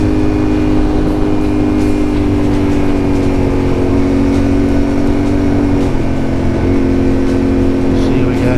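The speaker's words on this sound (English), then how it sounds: "Brand new tires, and I'm still spinning out North Texas caliche mud" Motorcycle engine (Yamaha Ténéré 700) droning steadily with rising revs as brand-new tires spin in wet North Texas caliche mud, a continuous loud close-up hum with wind rush throughout.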